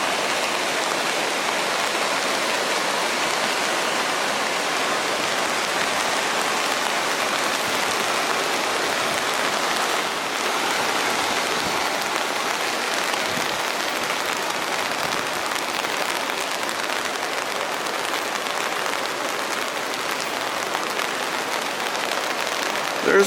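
Groves Creek rushes steadily beneath a railway bridge near where it joins a river, a broad continuous watery roar that stays loud and uniform throughout.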